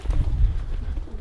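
Pigeons coo softly in a low, murmuring burble close by. Nothing else is heard.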